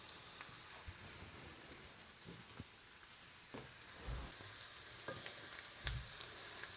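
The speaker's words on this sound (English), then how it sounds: "I did go ahead and complete the caramelization of these onions" Onions caramelizing and browning in a pan, a faint, steady crackling sizzle with scattered soft pops and a couple of light knocks, quiet and without talk.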